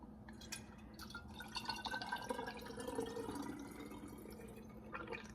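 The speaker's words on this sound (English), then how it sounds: "I've let the tallow cool off a little bit before I put it in the jars" Liquid tallow trickles through a funnel into quart glass jars, a soft continuous pouring and dripping sound with faint splashes, steady and fairly quiet throughout.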